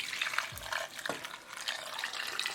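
Water poured into a pressure cooker holding taro root, an even, continuous splashing and trickling that stays close and steady throughout, with a faint ringing hollow note under the flow.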